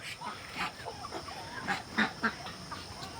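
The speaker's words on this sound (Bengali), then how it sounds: "এই যে চিনি হাঁস মেয়ে হাঁস" Chinese geese on a poultry farm give several short honks and squawks, loudest near the end, over a noisy outdoor background with no clear talk.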